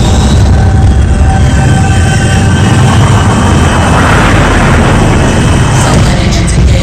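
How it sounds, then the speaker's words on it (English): Spaceship engine powering up as a film sound effect: a dense, loud, constant roar and rumble with a faint rising tonal whine, steady throughout with no talk. "Engine's coming up."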